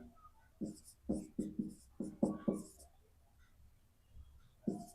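Pen strokes scratch out handwritten fractions in a series of short scrapes and taps with small gaps between them, close and fairly faint with no one talking.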